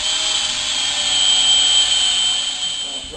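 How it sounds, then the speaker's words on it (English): A power drill bores through a Bible being mended with baling wire, a loud, steady high whine held close for several seconds before it winds down. "There's no better way to mend your Bible than with a drill and baling wire."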